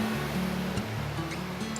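Whitewater rapids churning on the Cedar River at a whitewater park course, a steady loud roar of rushing, surging water with no talk.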